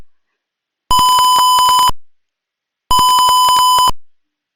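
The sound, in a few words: small electronic buzzers beeping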